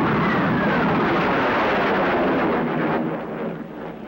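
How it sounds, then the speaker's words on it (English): A loud, broad roaring rush of sound catching up with a jet after its supersonic pullout, continuous and powerful, easing slightly toward the end. "Listen to the noise when the sound catches up."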